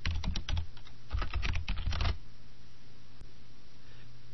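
Someone types a word on a computer keyboard in a quick, close burst of clicking keystrokes lasting about two seconds, followed by quiet room tone.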